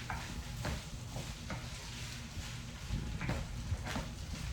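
Rice and chicken stir-fry in a tangy garlic teriyaki sauce, a steady low sizzle broken by rhythmic scraping stir strokes about twice a second, close and moderately quiet, with no voices.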